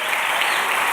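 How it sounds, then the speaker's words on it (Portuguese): A church congregation applauding during a worship service, a dense, even wash of clapping that holds steady and loud for about a second with no voices on top. "Aplauda ao Senhor, porque o Senhor está com você."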